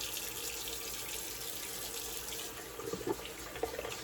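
Tap water runs steadily into a sink for rinsing during a wet shave, a continuous moderate hiss with a few small splashes and clinks near the end, no voices.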